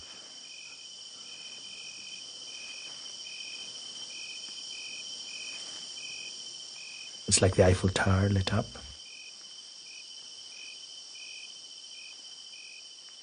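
Steady high-pitched night chorus of insects, frogs and cicadas in a film soundtrack, with regular pulsing calls throughout, briefly interrupted by a short burst of a voice speaking.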